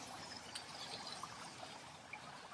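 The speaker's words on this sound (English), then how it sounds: "The waterfall here, or water wall," A water wall fountain beside an apartment pool pours in a steady, faint splashing trickle with small droplet patters, continuous and even in the distance.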